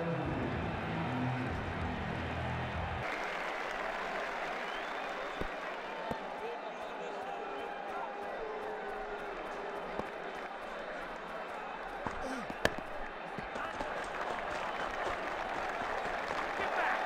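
Stadium crowd applauding in a cricket video game during a New Zealand versus Australia Champions Trophy match, a sustained dense wash of clapping and cheering with a commentator talking over it and a few sharp knocks.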